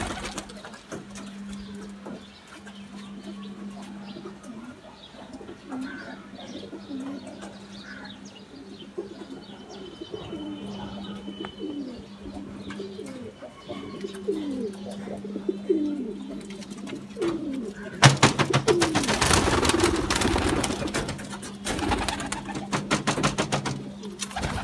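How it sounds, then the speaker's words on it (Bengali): Loft pigeons cooing after release, soft repeated coos at close range over a low steady hum, ending in a louder burst of flapping and rustling. "সো এই তো কবুতর ছাড়লাম, এখনো বের হয়নি, সব একটু বের করে দেই"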